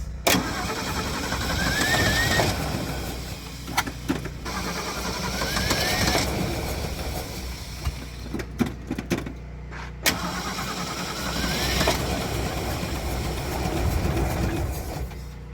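A Ford Ranchero with sticky valves and fresh spark plugs cranks repeatedly, its starter churning in long rhythmic bursts, with brief catches as the engine tries to fire, separated by short pauses and clicks.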